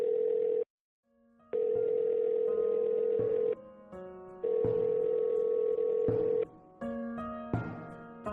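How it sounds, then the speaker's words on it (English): A telephone rings on an outgoing call, steady tone bursts repeating with short pauses between them, clear and close with no talking. "The phone rings."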